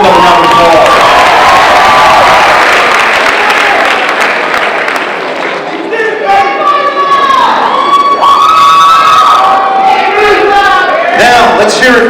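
A graduation audience applauds and cheers for the conference-champion girls and boys track team, a loud sustained crowd roar of clapping with whoops and children shouting rising over it.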